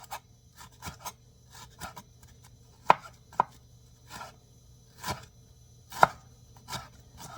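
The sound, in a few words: knife thinly cutting banana blossom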